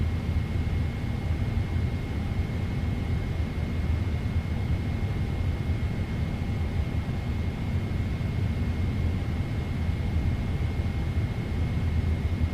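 Steady broadband engine roar and rumble of a PMDG 777 airliner in Microsoft Flight Simulator, a continuous even drone with a faint high whine, no talking over it.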